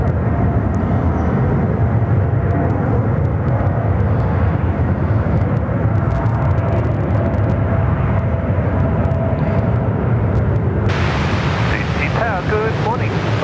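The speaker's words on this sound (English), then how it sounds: "I mean, it's no GE90, but it's still not a bad sounding aircraft on a quiet morning" A Japan Airlines jet takes off at Sydney Airport on a quiet morning, its engines producing a steady, loud roar with wind buffeting throughout, and a radio voice cutting in near the end.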